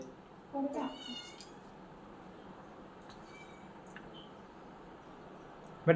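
A cat gives a loud meow near the start, followed by quieter mews and faint voices over low background noise.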